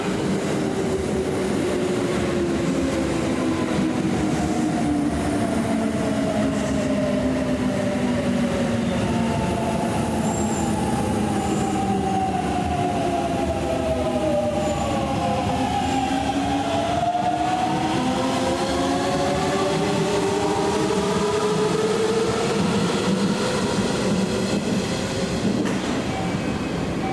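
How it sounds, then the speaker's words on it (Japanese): A Kintetsu Nara Line train passes through Kawachi-Kosaka station during the morning rush, its loud, continuous rumble and rolling wheel noise filling the platform with rising and falling tones as the cars go by. "2番乗りの電車が通過します。"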